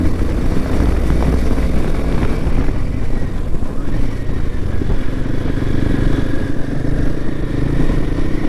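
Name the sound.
motorcycle engine while riding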